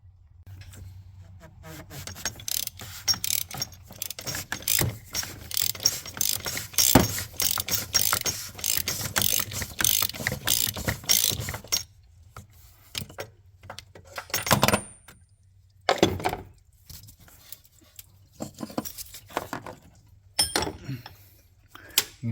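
A ratchet with a 1 1/8 inch socket on a long extension and swivel loosens the fuel filter cap on a Ram 3500 6.7 diesel, giving bursts of rapid clicking, dense at first and then in shorter separated spurts, close up.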